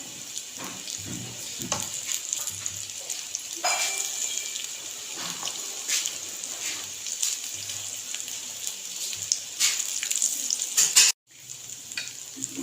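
Mixed vegetable pakoras sizzle steadily in hot oil in a pan, a continuous bright crackling hiss with occasional stirring clinks and a brief break near the end, no one speaking.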